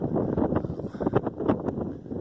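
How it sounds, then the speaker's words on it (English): Wind gusting steadily across an exposed spring hiking trail on a drizzly day, a continuous broadband rush with close microphone buffeting that swells and dips throughout, no talking over it. "it's been really windy"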